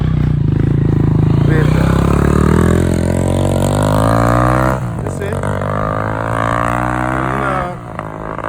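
A motorcycle engine roars loudly up close while riding, rising and shifting in pitch as it accelerates, with a brief dip partway through; a voice speaks briefly over it.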